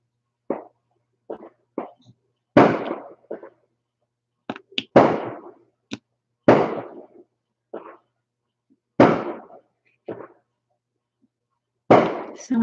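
Outdoor fireworks and firecrackers in New Orleans go off in scattered sharp bangs and crackling bursts, fairly close as if right outside a window, separated by silent gaps.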